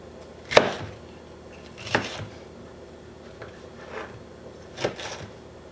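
A knife chopping vegetables, including pepper, into bite-sized pieces on a cutting board, heard as a few spaced, close thuds, with two sharper chops and softer ones between them.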